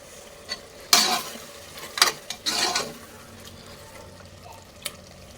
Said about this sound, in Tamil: இப்போ தக்காளி நல்லா வதங்கிருச்சு இஞ்சி அரைச்சி ஊற்றியாச்சு அதுவும் நல்லா வதங்கட்டுங்க